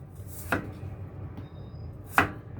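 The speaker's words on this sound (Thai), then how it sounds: "หั่นไปเลยมันฝรั่ง หั่นชิ้นประมาณนี้แหละ" Two sharp knife chops through peeled potatoes on a cutting board, spaced well apart, close and crisp against a quiet kitchen background.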